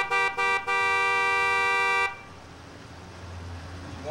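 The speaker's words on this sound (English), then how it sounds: "honk the horn" A car horn honks in two short blasts, then one long sustained blare that cuts off, leaving quiet traffic hum.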